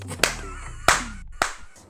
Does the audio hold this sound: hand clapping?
yes